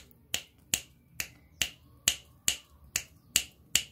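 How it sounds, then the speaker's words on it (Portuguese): Crisp finger snaps, close and clear, repeating at a steady rhythm of about one every half second, around nine snaps in a quiet room with no talk. "Só de estalar os dedos."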